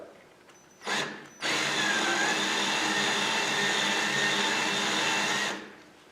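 A rotary cutting wheel tool whirs steadily while stripping insulation off an electric cord, starting with a short burst, then a brief pause, then a long continuous loud grinding whine that winds down at the end.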